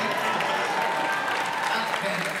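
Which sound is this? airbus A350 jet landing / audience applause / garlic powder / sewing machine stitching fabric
audience applause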